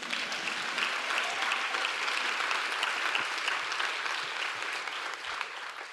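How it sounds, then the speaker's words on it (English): A large audience applauds steadily throughout at a celebration honoring the public service career of Bonnie Watson Coleman, a dense, even wash of clapping with no voices on top. "We should clap for that."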